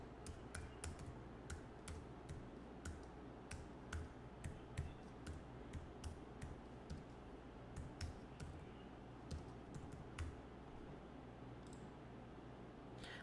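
Steady typing on a computer keyboard, a run of quick, light key clicks with short pauses, close up with no talking.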